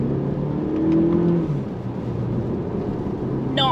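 A 2022 Volkswagen T-Roc in sport mode accelerates steadily from inside the cabin, a continuous engine drone and road rumble with a rising tone early on, close and fairly loud throughout.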